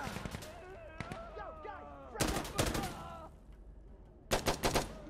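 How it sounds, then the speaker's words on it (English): Gunshots in the video game Insurgency: Sandstorm, sharp clusters of loud automatic bursts near the middle and end of the clip, separated by quieter stretches of game ambience with voice-like chatter. "Where did those shots come from?"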